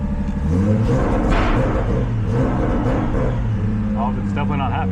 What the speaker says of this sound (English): So we're just gonna give it a rev.